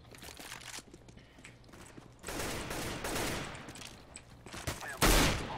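CS:GO gunfire rattles in a few short bursts, moderately loud, with the heaviest burst near the end over a steady game background.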